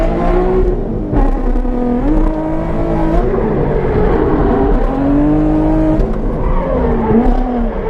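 Nissan Z on a race track for a solo lap, engine loud and close, revving up through the gears with repeated rising pitch sweeps and brief dips at each shift.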